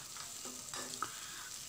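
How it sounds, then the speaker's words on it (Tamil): Chopped large onion crackles and sizzles in hot oil close up, with a steady frying hiss and the occasional scrape of stirring, while cooking a mushroom gravy. "ஆயில் சூடானதும் ஒரு பெரிய வெங்காயத்தை பொடி பொடியாக கட் பண்ணி இதில் ஆட் பண்ணிக்கலாம்"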